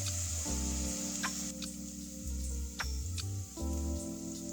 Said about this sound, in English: The onions need to be fried over medium heat for 3 to 4 minutes.